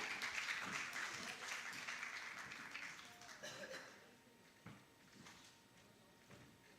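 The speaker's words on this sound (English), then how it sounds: "Big hand for Miss Candela." Audience applause at a conference closing ceremony, a distant wash of clapping that is strongest at first and then thins and fades into a quiet room.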